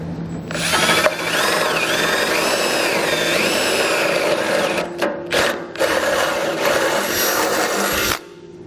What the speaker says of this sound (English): use the base plate as a template to drill a hole through that bumper core